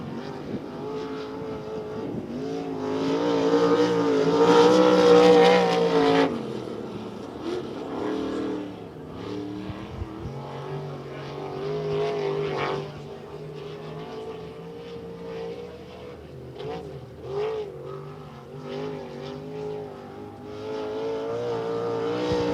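An ASCS Elite non-wing sprint car at Devil's Bowl Speedway roars through a qualifying lap, its engine loud and close at first, surging hard around five seconds, then easing and swelling again as it circles the dirt track.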